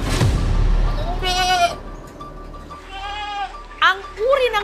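Goats bleating at a pet and livestock market in Bocaue, Philippines, several wavering calls rising over steady crowd noise and nearby talk.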